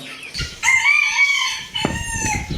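A rooster crows loudly nearby with a drawn-out call, while chickens cluck and mutter around it.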